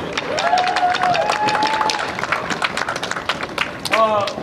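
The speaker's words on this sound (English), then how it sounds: "Give yourselves a round of applause." Crowd applause at a gathering about Black youth, clapping mixed with cheering voices and whoops, with people talking and shouting over it.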